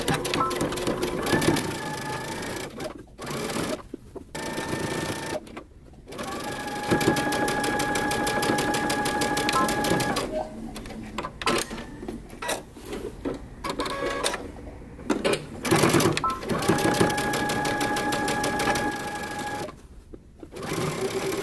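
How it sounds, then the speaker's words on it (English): A sewing machine stitches a seam on wide leg pants toward the center front, running in long steady bursts of fast rhythmic needle clatter with brief pauses between them, close and clear. "We're going to sew all the way to the center front"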